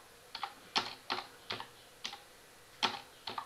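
Fingers tap quickly on a computer keyboard, a quiet, close run of uneven clicking keystrokes with brief gaps, and no voices.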